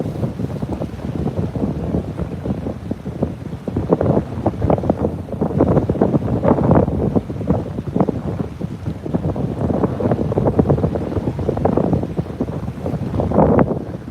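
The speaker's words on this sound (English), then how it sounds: "The wind's pushing on my gimbal" Strong wind buffeting a microphone on the open deck of a cruise ship sailing away from Seattle, a continuous loud rumbling roar with gusty surges, no voices.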